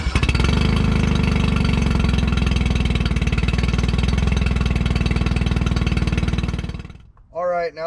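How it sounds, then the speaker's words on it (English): A Tohatsu 9.9–20 hp outboard motor runs steadily at idle for about seven seconds to warm its oil, a loud, close, even engine drone that then cuts off, followed by a brief voice. "we're going to go ahead and run this for a few minutes and warm our engine oil up"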